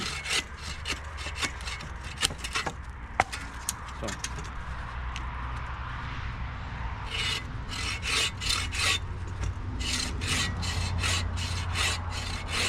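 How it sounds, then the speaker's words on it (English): A lightweight bushcraft saw cutting through wood rounds outdoors, with irregular rasping strokes early on, then a faster run of regular back-and-forth strokes, close and moderately loud, with faint bird calls in the background. "this is one of my Bushcraft saws"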